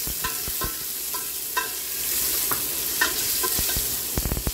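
Sliced carrots fry in hot oil in a pan, a constant crackling sizzle punctuated by sharp clacks and scrapes of a utensil stirring, close up with no voices.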